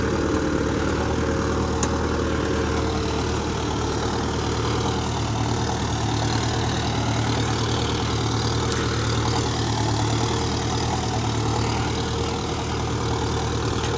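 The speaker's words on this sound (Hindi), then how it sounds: "आरपीएम ड्रॉप कर रहा है बहुत ज़्यादा" Mahindra Arjun Novo tractor engine working hard in second gear of the medium range, with its revs sagging under load. It gives a loud, steady, close droning rumble throughout, with no voices.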